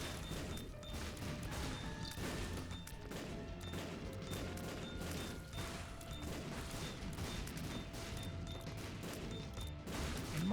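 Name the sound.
troll bombs exploding in The Binding of Isaac: Repentance video game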